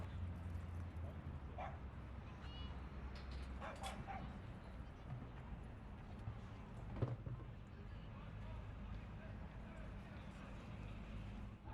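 Dogs bark, yip and whimper faintly at the Madison Square Park dog run in New York City, a few scattered distant calls over a steady city hum with voices in the background.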